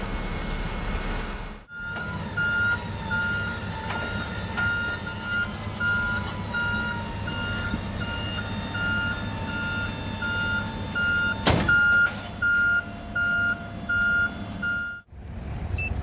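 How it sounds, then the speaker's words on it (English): A truck-mounted attenuator on an MOT truck is lowered into position, its warning alarm sounding a steady series of evenly spaced reversing-style beeps over a low idling engine rumble, with a short clunk midway. "I'm going to lower the attenuator into position so we can inspect that"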